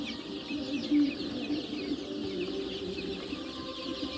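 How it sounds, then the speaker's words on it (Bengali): Desi hens on a poultry farm of about a thousand birds cluck softly and intermittently against a steady farmyard background, with scattered faint chirps and no clear voices. "আজকে আমি দেখাবো আপনাদেরকে 1000 দেশি মুরগির ফার্ম"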